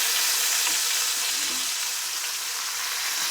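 Tomatoes and black pudding frying together in a pan for a full English breakfast, a dense, loud, continuous sizzle close up with faint spatter, no talking.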